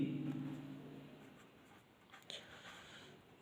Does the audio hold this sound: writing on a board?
yes